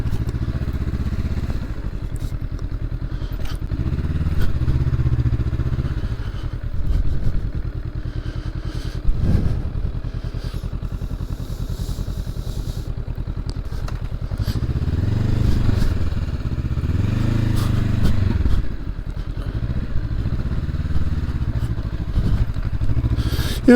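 A 2023 Honda SCL500 Scrambler rumbles along a muddy, rooty trail, its mid-pitched engine note swelling and easing with throttle changes, over scattered thumps and clatter from the rough ground for a long stretch.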